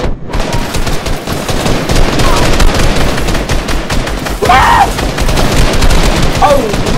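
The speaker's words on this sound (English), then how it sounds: "They're shooting at you." Dense, continuous gunfire from many weapons in the Fortnite video game, loud and sustained across the whole stretch as rapid bursts overlap, with faint voices underneath.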